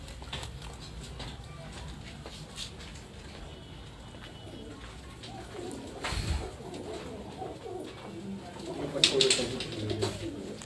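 Pigeons on a rooftop loft in Larkana, Sindh coo softly and intermittently amid faint background noise, with a brief flurry of louder movement toward the end.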